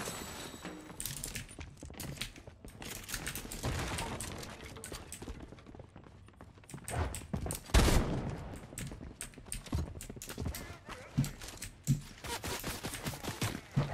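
A burst SMG fires in Fortnite: scattered rapid bursts of sharp shots crackle on and off, with one heavier impact midway and quieter gaps between volleys.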